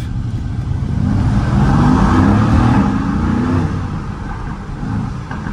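A 2016 Mercedes-AMG GT S engine in Sport Plus mode revs hard, rising and falling in a deep, loud roar that fills the cabin, with no one speaking.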